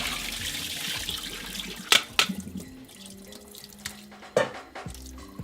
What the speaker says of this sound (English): So I have a strainer right here. And so I'm gonna go ahead and dump this in here.